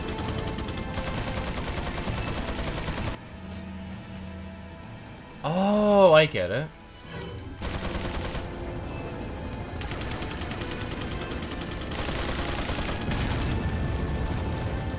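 Gunfire in the video game Resident Evil 4, bursts of rapid shots in dense stretches broken by pauses, with someone talking briefly over the action.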